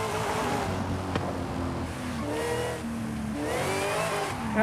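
A supercharged LS3 6.2-litre V8 in a Forza Horizon 5 car revs and pulls through gears, engine tone rising and dropping with shifts, loud and up close with no voices.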